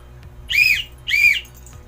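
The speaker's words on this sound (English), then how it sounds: "And if I whistle this twice" A tour guide's handheld whistle blown twice as a signal to move on, two short shrill blasts about half a second apart, close and loud against quiet background.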